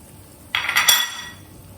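A spoon scraping and clinking against a pan while mixing melted jaggery for gur laddoos, one short burst of metallic scraping, close and moderately loud, with no one talking.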